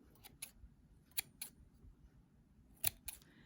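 Scissors snip through the loose yarn ends of a crocheted cat beanie, several quick quiet cuts in uneven pairs with pauses between, close by and with no talking.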